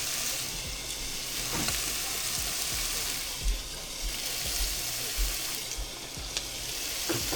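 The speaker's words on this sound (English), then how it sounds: "shrimp do not take long to cook" Shrimp cooking in a pan for Italian shrimp pasta crackle in a constant loud sizzle, with occasional dull knocks as pieces are moved around.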